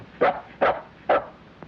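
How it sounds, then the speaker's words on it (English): Dog barking three times, evenly spaced, at medium distance, followed by a faint short yip. "What'd you call that dog?"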